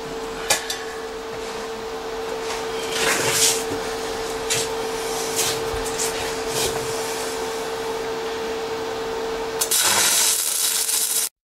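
Stick welding with a 2.5 mm rod at 80 amps gives a continuous crackling, spitting arc over a steady electrical hum, with brief louder pops. The noise swells briefly near the end and then cuts off abruptly.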